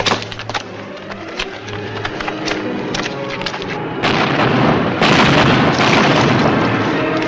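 Cannon fire at boats arrives as a series of deep booms and cracks, with a heavier, sustained roar of blasts and splintering wood building in the second half, loud and close.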